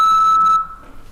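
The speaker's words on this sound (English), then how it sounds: "At the beep, repeat the phrase." A single electronic beep tone, steady and clear, sounds ahead of a voice password prompt, then stops abruptly and leaves quiet room noise.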